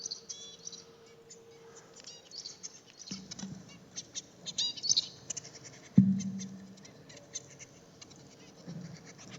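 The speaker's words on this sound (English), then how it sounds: "maybe you could listen to the bird singing" A bird sings in short, bright chirps and trills scattered over several seconds. Soft scratches and a few dull thumps come in between the calls.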